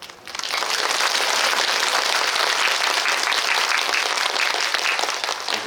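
An audience at a Korean film press event applauds loudly and steadily, a dense wash of clapping that swells in quickly and sustains without a break, with no speech over it.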